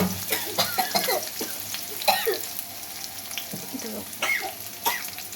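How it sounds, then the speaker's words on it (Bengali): Onion and garlic dropped into hot oil in a pan, a soft sizzle running under scattered clinks and household noises, with a faint cough or voice in the background. "আমি এটার মধ্যে পেঁয়াজ আর রসুনটা ছেড়ে দিচ্ছি।"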